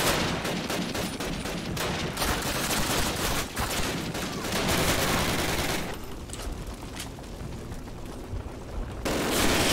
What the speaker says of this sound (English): Heard an MG42 though